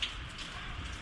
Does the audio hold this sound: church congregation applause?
no